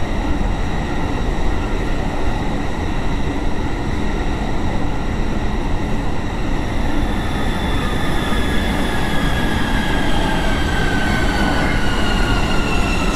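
A Warsaw Metro line M2 train in a Roblox game runs steadily with a loud, continuous rumble and rising, whining tonal hums that slowly climb in pitch, no voices present.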